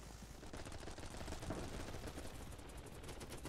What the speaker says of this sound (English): Who's just shooting at me?